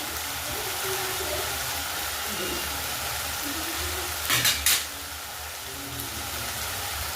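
Ginger and garlic paste sizzles steadily in hot oil as a continuous frying hiss, with a couple of brief louder crackles partway through and no one speaking.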